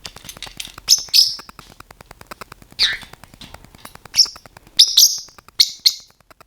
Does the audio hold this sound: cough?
no